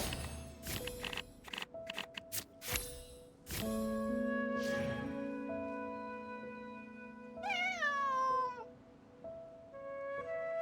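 A cat meows several times in the video game Genshin Impact, rising, wavering cries standing out over a steady soft musical backdrop with scattered clicks and taps earlier on.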